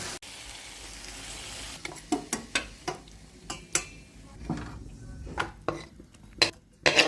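Dishes and cutlery clink and scrape as home-cooked coriander chicken is served out with a spoon, a string of sharp, close knocks and taps after a soft hiss, with no talking.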